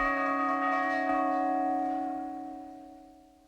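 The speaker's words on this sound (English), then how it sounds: "This carillon consists of 49 bronze bells weighing a total of more than 38 tons." A carillon of 49 bronze bells weighing more than 38 tons rings out. Sustained bell tones with rich overtones hum together after a couple of struck notes, then slowly fade away with no other sound.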